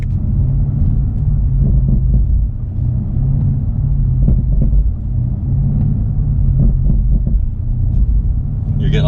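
A BMW M850i xDrive Coupe in Sports Plus mode runs on light throttle with a deep, continuous exhaust rumble and low burbling pops, loud and close throughout.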